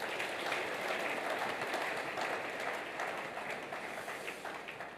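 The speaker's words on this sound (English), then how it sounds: "Let's give him another round of applause" An audience at a business talk claps for an absent person, producing a dense, even wash of applause at moderate, fairly distant loudness that slowly tapers off.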